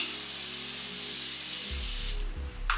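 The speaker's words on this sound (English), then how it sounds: "Spray one more time." Makeup setting spray hissing from a bottle in a steady, close burst lasting about two seconds, with soft low rustling underneath and a brief second puff at the end.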